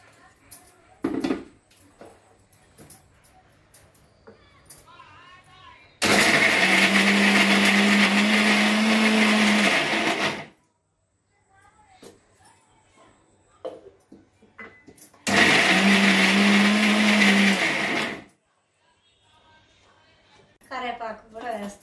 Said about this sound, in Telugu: ముందుగా అల్లం పచ్చిమిర్చి కరివేపాకు మిక్సీ వేసుకుందాం.